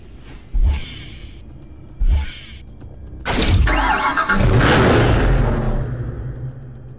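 A BMW M3 Coupe engine in the racing game Need for Speed Hot Pursuit cranks twice in short bursts, then fires up and revs into a loud, sustained roar that slowly settles.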